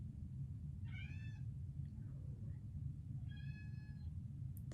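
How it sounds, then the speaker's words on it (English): A house cat meows twice, faint and separated by a short pause, over a low steady background hum in a quiet room. "sorry, that's my cat."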